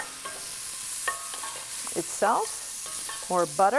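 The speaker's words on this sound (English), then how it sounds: "We're not actually eating the salt pork, just rendering it" Salt pork rendering its fat in a pot for fish chowder, giving a steady, close sizzling hiss that runs throughout while a voice talks intermittently over it.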